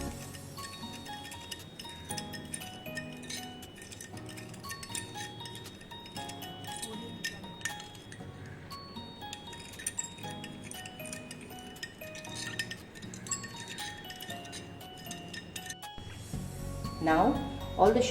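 A spoon stirs sugar into warm milk in a bowl, making soft, repeated clinks and taps against the sides in an irregular rhythm, quiet and close, mostly over a background of gentle music.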